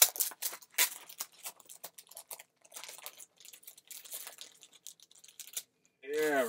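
A vampire-themed magazine is pulled free of its plastic wrapping, giving close crinkling and rustling in irregular bursts, fading near the end before a voice cuts in.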